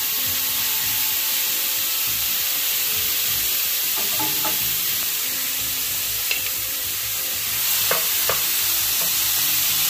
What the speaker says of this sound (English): We got a nice little sizzle going there.